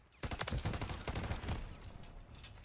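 A Call of Duty weapon fires a rapid automatic burst, loud sharp reports in quick succession, then trails off into echoing tail and quieter scattered shots.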